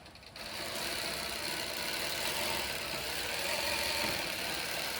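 A long arm quilting machine stitches steadily, a continuous mechanical whir with a fine rapid ticking rhythm, starting up after a brief quieter moment.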